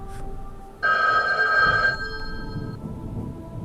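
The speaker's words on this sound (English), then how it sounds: "That's when the store phone rang." A store telephone rings with one loud, bright electronic bell burst up close, then fades into a quiet room with no voices.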